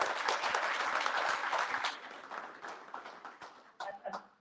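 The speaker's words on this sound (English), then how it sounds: "So give yourself a huge round of applause." An audience at a year-end fundraiser bursts into loud applause that slowly thins out, with scattered claps and a few voices near the end.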